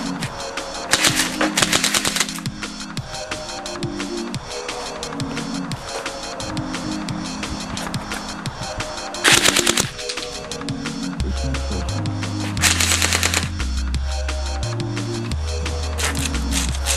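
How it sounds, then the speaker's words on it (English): A battery electric M805 airsoft BB gun fires several short, sharp automatic bursts over steady background music. "If you're buying a battery electric airsoft BB gun this week, this is the one to get."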